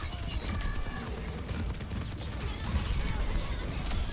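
Video game gunfire crackles in dense, sustained bursts and scattered shots at close range, mixed with clatter, filling the whole stretch with little letup.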